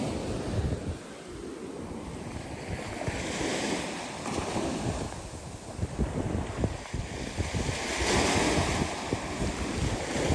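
Ocean surf rolls in steadily on Pensacola Beach with broad washing swells, mixed with gusty wind buffeting the microphone; no voices.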